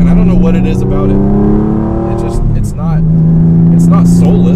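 A Porsche 996 911 engine on the road, freshly back from an engine-out service, holds a loud, steady droning tone that dips briefly near the end before settling back.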